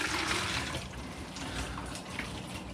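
Water pours steadily into a container for a homemade bed bug trap, a continuous close splashing trickle with no talk.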